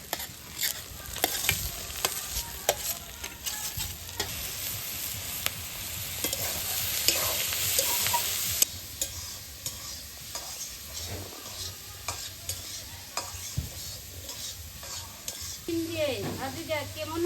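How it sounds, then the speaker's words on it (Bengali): Depa greens stir-fried with fried eggs in a village kitchen pan: a constant close sizzle with repeated scraping and tapping of a spatula, louder and busier early on, then a quieter crackle with occasional stirs. "দিয়ে দিব শাক।"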